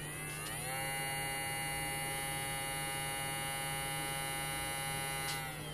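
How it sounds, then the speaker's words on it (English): A quiet electric dog nail grinder runs with a steady, thin motor whine and faint buzz that holds evenly for several seconds, heard alone at close range. "I use a grinder just to go around the nail after I trim them"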